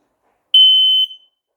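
A home carbon monoxide detector sounds during an alarm test, giving one loud, piercing high-pitched electronic beep of about half a second that cuts off cleanly into silence.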